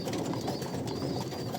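Pigeons in a large cage give a low, continuous cooing murmur, soft and close, with a faint higher chirp drifting over it and no voices.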